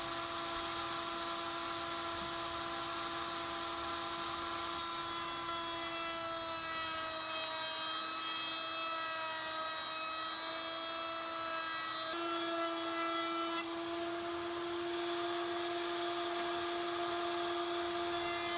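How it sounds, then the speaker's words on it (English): A router table fitted with a round-over bit spins at high speed with a steady, piercing whine, cutting the corners of sycamore wood with a slight change in tone partway through and no talking. "set up a round over bit on the router table. And we're gonna round over those corners"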